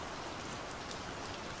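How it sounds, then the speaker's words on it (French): Steady rain falls in a dense, even hiss with scattered droplet patter, soft and constant throughout with no voices. "Il pleut"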